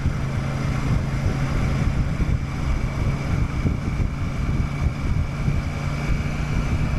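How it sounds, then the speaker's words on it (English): Steady roaring wind buffeting a helmet while riding a Royal Enfield Super Meteor 650 on a motorway at about 50 mph, a continuous dense rush with low engine drone beneath, loud and unbroken throughout. "Wind noise isn't as much as it will be when we get up to 70."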